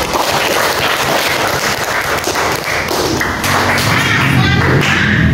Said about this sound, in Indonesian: aplaus dulu untuk Majri